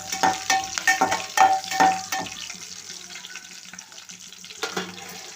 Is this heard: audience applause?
no